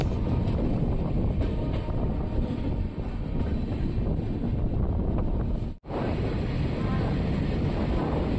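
Passenger train heard from aboard as it runs into Kalaburagi junction, a steady loud rumble with wind noise throughout and a brief dropout partway.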